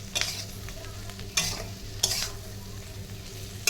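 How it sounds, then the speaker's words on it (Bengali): Fried chicken pieces being stirred in a hot pan, a steady sizzle broken by several sharp scraping clatters of the spatula at irregular intervals, close by, with no speech. "এর মধ্যে চিকেনের ভাজাগুলোকে দিয়ে দিলাম, দিয়ে হালকা একটু নাড়াচাড়া করে নেব।"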